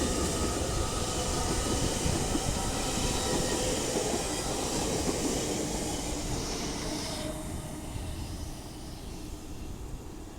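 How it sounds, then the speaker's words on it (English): A Class 802 TransPennine Express train roars through Guide Bridge station, a loud sustained rumble of wheels and engine with faint rail clatter, easing off slightly toward the end as it passes. "The next train to be coming through will be another Class 802 for Transpennine Express, running from Newcastle to Manchester Piccadilly."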